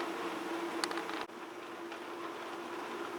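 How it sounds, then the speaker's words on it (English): A heater running inside an orchid greenhouse, a quiet steady broadband hiss with a faint hum, continuous throughout with a single brief click midway. "The noise you can hear is the heater that's just come on"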